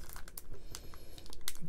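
A trading card promo pack is handled and opened, with crisp crinkling and tearing of the foil wrapper in quick irregular bursts, close and fairly quiet.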